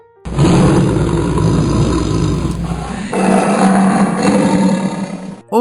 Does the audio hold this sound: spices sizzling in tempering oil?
no